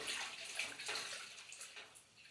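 Hot washing water with a little dish soap being stirred in a sink basin, a steady close swishing and sloshing that rises and falls gently, with no voices.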